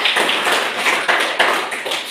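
A classroom group claps hands together, a dense patter of overlapping claps holding steady at moderate loudness for a couple of seconds with no talking over it.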